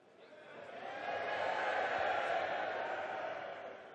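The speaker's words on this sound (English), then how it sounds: "Not quite sure what the crowd are getting excited about there" A darts arena crowd cheering excitedly, a broad swell of many voices that builds and holds loudly in a large hall, then fades slightly.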